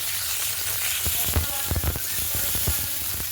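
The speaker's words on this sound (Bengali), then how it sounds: "ফোড়নে শুকনো লঙ্কা দিলাম, ঢেঁড়স আলু বেগুন দিয়ে দিলাম" Okra, potato and eggplant sizzle in hot oil seasoned with dried red chilli, a loud, continuous close frying hiss broken by a few sharp clinks and scrapes from stirring.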